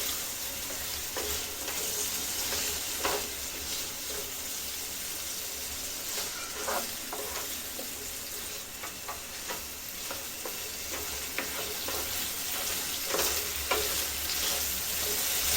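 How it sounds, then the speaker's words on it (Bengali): Ginger-garlic paste fries over a low flame in a pan for Bengali-style ghugni, a steady sizzle punctuated by repeated scraping and stirring strokes of a spoon, close and fairly loud throughout. "এবার আদা রসুনটা একটু ভালো করে নেড়ে নিতে হবে।"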